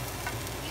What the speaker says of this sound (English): Okay, so you basically saute